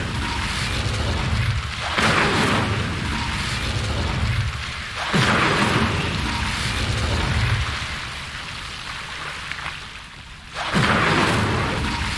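Incendio fire spell cast in the Hogwarts Legacy video game, a loud sustained roaring whoosh of flame with repeated surges and booming bursts over a deep rumbling bed.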